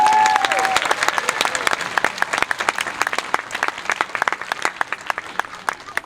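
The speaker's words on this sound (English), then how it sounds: "can we give her a big round of applause?" Audience at a school assembly gives a round of applause, a dense, sustained burst of many hands clapping, close and loud, with no talking.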